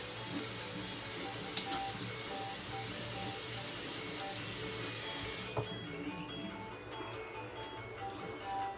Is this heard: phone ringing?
no